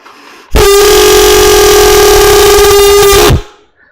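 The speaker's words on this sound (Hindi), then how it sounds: "ये ट्रेन का हॉर्न" A loud, sustained train-horn chord played on pipes, with a steady pitch, blares for about three seconds, then cuts off abruptly, played alone.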